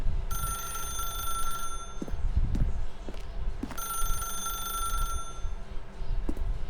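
An old-style telephone bell rings in The Stanley Parable, two long electric trills separated by a short gap, sounding clear and fairly close over a low background hum and faint footsteps.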